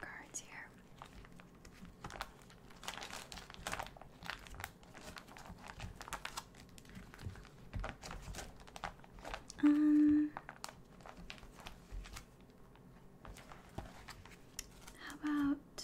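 Pokémon trading cards are handled and shuffled up close, producing soft crinkles, taps and slides at a quiet level, with occasional whispered speech in between.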